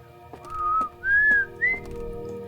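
A person whistles a short, gentle three-note tune from the Outer Wilds video game, clear and close, over a quiet background.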